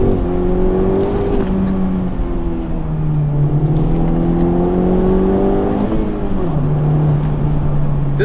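A Honda Civic Type R drives along a road with a loud, steady engine drone whose pitch climbs and drops through gear changes, accompanied by constant road and wind noise.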